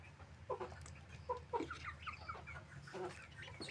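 Tiger chickens clucking close by, several short rhythmic clucks in scattered bursts over a quiet farm background, with no talk.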